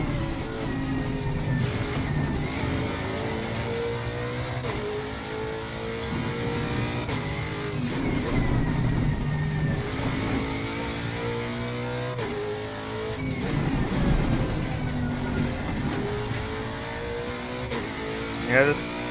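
A Lexus RC F GT3 race car engine roars steadily at Brands Hatch in Assetto Corsa Competizione, rising and falling in pitch as it revs through gears, loud and continuous throughout.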